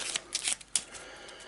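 A deck of Eldritch Horror board game cards shuffled by hand, a quick riffle of crisp papery flutters with a couple of sharp snaps, close and alone.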